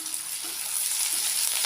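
Two sprigs of curry leaves sautéing in a pan for a snake gourd and grated coconut stir-fry, giving an even, close, hissing sizzle with light stirring.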